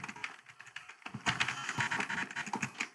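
Quick bursts of keystrokes on a computer keyboard, close and clear, with a brief pause before a denser, faster run of clicking taps.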